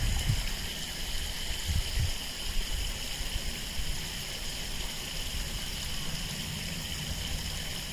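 Clean water flowing steadily in a park in Tokyo, early morning, a continuous close rush and trickle with no voices.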